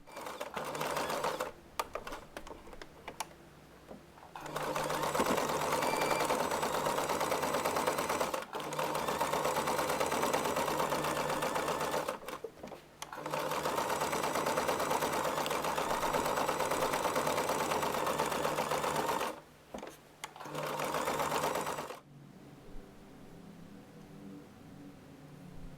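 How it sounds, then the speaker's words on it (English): A sewing machine stitches around the edge of a round fabric pouch, its steady motor whir running loud in long bursts with brief pauses between passes. "Sew all around, leaving a gap in the lining fabric for turning it inside out."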